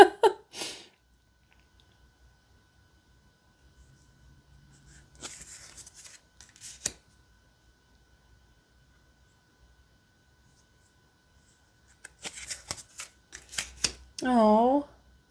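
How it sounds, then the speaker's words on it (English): A deck of self-care wisdom cards is shuffled in two short bursts of soft, close riffling and flapping, separated by long quiet gaps. A brief vocal sound follows at the end. "we'll shuffle, we'll pull a card"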